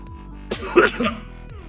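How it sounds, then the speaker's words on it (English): A single close, sharp cough, with a throat-clearing rasp, in an otherwise quiet room. "Excuse me, I got a cough."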